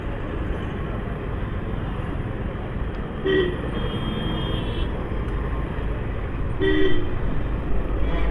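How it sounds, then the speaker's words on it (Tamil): Heavy road traffic in a Tamil Nadu town street, with a constant loud rumble of engines and two short horn toots standing out a few seconds apart. "இங்கேயே ஃபுல்லாக ஹெவி டிராஃபிக்கு பாருங்கள்"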